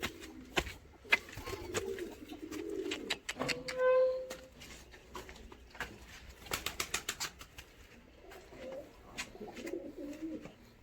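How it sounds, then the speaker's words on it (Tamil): Pigeons on a farm coo in a brief, clear burst near the middle, with wings flapping in sharp clustered beats before and after, over a low rustling background. "நேற்று கொஞ்சம் புறா வாங்கினேன்."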